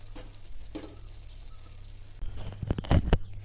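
Soya chunks roast cooking in a pan with a thickened gravy, a soft low sizzle with brief stirring scrapes that build into a louder burst of clattering stirring near the end, no talking.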